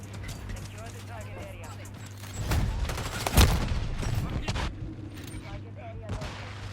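Akimbo Lockwood MK2 shotguns fired in a first-person shooter game, a short cluster of heavy blasts with one sharp peak, rising briefly over steady game background noise.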